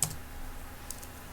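A single key press on a computer keyboard, entering a spreadsheet formula, gives a sharp click right at the start, with a couple of faint clicks near the end over a quiet background.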